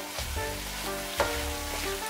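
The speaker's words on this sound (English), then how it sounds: "We're going to put the last of this curry on there. Then you stir it." Organic grass-fed ground beef with curry sizzling loudly in a pan as it is stirred, a close, steady frying hiss with a few utensil scrapes.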